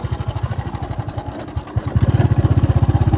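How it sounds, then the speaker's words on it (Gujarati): A tractor engine idles and chugs on a farm with a steady, close, rapid low thumping that dips briefly and then grows louder and more even. "ટ્રેક્ટર હાંકીને ત્યાં જવાનું છે"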